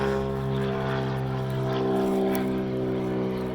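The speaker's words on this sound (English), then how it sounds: "Oh, that's a loud plane." A loud propeller airplane passes overhead outdoors in a garden, its steady droning engine hum filling the whole stretch with no talk over it.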